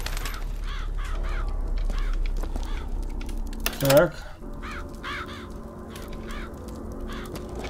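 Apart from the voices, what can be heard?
crows cawing in Bioshock Infinite video game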